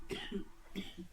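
Two sets of close, harsh coughs, each a quick double hack, separated by a brief pause.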